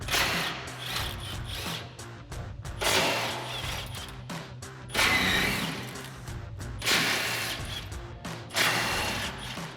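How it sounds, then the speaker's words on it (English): An impact wrench with a 17 mm socket backs out trailer hitch bolts on a 2005-2015 Toyota Tacoma, giving close, loud bursts of mechanical rattling and hammering that come in several short runs with brief pauses between them. "we've got our 17 mil socket on our impact. We'll start pulling these out."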